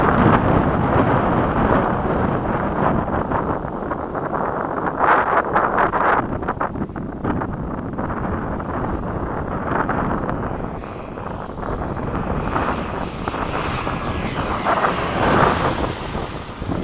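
A formation of FMS 70mm F/A-18 electric ducted-fan RC model jets with higher-KV motors flying at an airfield event, a sustained whooshing roar that swells and fades as they pass, mixed with wind noise.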